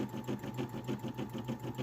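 A Brother SE 600 embroidery machine stitching a design, a rapid rhythmic whir-and-clack pulsing evenly at close range with no talk.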